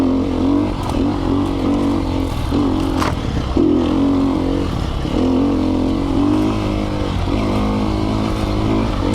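Sherco dirt motorcycle engine idling and blipping as the front wheel hops over an obstacle on a trail; continuous close engine drone with small throttle changes and clatter throughout.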